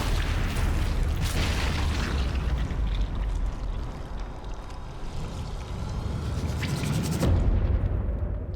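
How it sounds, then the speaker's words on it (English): A sticky grenade goes off in a World War II multiplayer shooter, a heavy, continuous rumbling blast that fills the whole stretch and fades out at the end. "Let's hit him with a sticky grenade."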